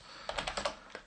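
A computer keyboard typing a command, heard as a quick burst of about six close, crisp keystrokes in an uneven rhythm with no speech.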